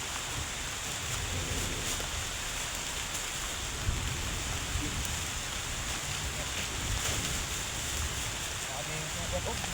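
Steady rain falling outdoors, a dense hiss of drops on surfaces mixed with gusty wind noise, continuous and fairly loud, with faint voices underneath.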